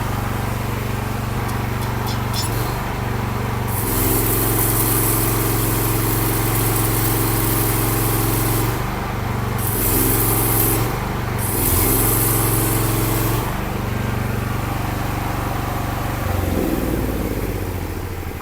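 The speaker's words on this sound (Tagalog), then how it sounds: "Ang kagandahan po ng generator welding machine na ito, disusi na rin po siya, kaya madali po siyang mag-start." A 2-in-1 generator welding machine runs steadily at close range, its engine giving a loud continuous hum with strong low harmonics and slight shifts in speed and load, with no talking.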